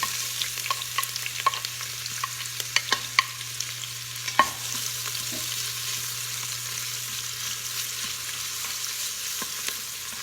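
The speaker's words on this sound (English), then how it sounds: "There's olive oil in there right now. I'm gonna saute some onions." Onions saute in olive oil inside an Instant Pot, giving a soft continuous sizzle under a steady low hum, with scattered light stirring taps, mostly in the first half.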